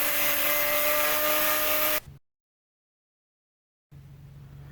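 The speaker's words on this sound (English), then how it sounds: "I'm having to do this bit with the angle grinder" An angle grinder grinds a knife blade made from Morris Minor leaf spring steel. It gives a loud, steady, high-pitched whine for about two seconds, then stops dead into silence, and a quieter rough hum follows.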